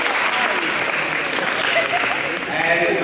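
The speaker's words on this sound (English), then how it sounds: "so round of applause for her too" A panel audience gives a round of applause, steady clapping throughout with faint voices under it near the end.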